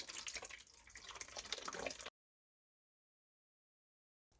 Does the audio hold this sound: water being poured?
yes